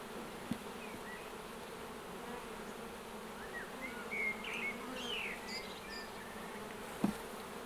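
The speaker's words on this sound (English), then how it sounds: "there's plenty of bees down there and quite a lot of pollen" Honey bees hum steadily inside an open hive full of pollen, a continuous low drone with brief louder buzzes of single bees passing close, plus a couple of faint knocks.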